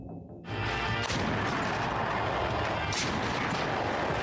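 A sudden loud, heavy blast of Ukrainian artillery fire rumbles and roars continuously after a brief quiet start, with another sharp burst of noise near the end, on the Lyman-Kupiansk front.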